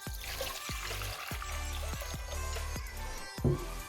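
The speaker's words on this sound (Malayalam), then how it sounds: "അതിനാവശ്യമായിട്ടുള്ള ഒരു ലിറ്റർ വെള്ളം കുക്കറിൽ ഒഴിക്കുക" Water, about one litre, poured into a pressure cooker makes a soft, continuous splashing trickle with small repeated gurgles, fairly quiet and alone.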